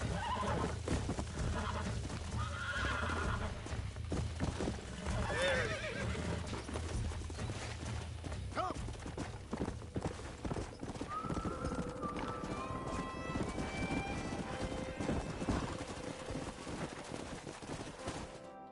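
In the video game Red Dead Redemption, a stallion neighs and whinnies while hooves clip-clop steadily, with gunfire bursts and game background sounds mixed throughout.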